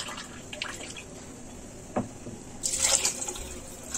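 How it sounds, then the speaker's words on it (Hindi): Water poured into a pot of soaked, washed basmati rice, with soft drips and a brief splashing pour toward the end, fairly faint and without talk. "1 कप चावल डाले बाद 2 कप पानी डालना।"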